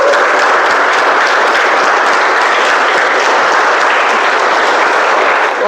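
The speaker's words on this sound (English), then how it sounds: "Keep clapping guys, we're taking a picture." Sustained, loud, dense applause from an audience at a Toastmasters table topics meeting, honoring the best table topic speaker; continuous clapping close by for the whole stretch, with no talk over it.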